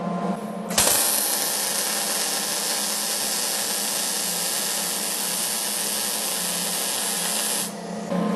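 MIG welding of forged coat hooks for a coat rack: a steady, loud, close hiss and crackle of the arc runs for about seven seconds, then cuts off near the end.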